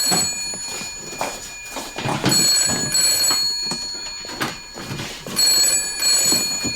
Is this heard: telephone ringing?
yes